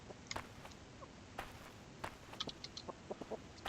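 A chicken in the video game Signs of Life gives a few short, quiet clucks between soft footsteps, scattered across a faint background.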